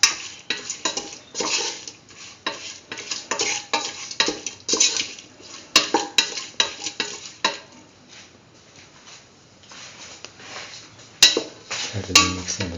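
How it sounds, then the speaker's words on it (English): Salt being mixed into beef pieces for pumpkin beef rice, with a steady run of scraping, stirring clatters against a bowl, then quieter patter and a few sharp knocks near the end. "Thoroughly mix in the salt. Salt the beef pieces together with the rest of the mixture."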